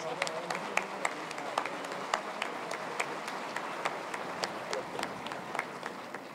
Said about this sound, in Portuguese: Uma salva de palmas para Uberaba